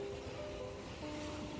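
Rushing current of the Nile River in Uganda, a steady broadband roar of churning water close by, continuous with no talk over it.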